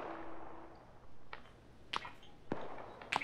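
Scattered gunfire in ArmA 3 on the Takistan map: three or four sharp, separate shots, mid-distance, spaced about half a second apart, over a quiet game background.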